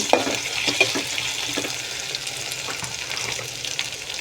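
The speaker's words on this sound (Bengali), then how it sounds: "এর সাথে আমি এখন দধিটা দিয়ে দিচ্ছি। দধিটা দেওয়ার পরে ভালোভাবে নেড়ে ছেড়ে" Yogurt stirred into biryani in a pan, with a soft continuous wet stirring and light sizzle, close and steady with small scraping ticks, no voices.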